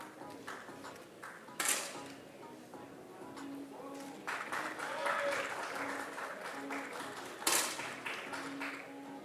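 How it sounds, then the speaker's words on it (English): Audience applause at a men's 10m air rifle shooting World Cup in Bhopal, a steady patter of clapping from the crowd under a commentator's voice, with a couple of sharp louder pops. "gets a huge applause"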